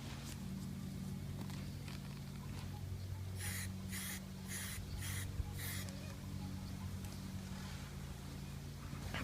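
Several short bursts of flat black spray paint hiss in quick succession onto a goose silhouette decoy, fairly close, over a steady low background hum.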